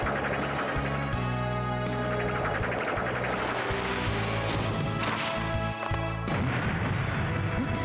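Video game grenades going off in rapid succession, heavy crashing blasts layered over loud music and constant battle noise.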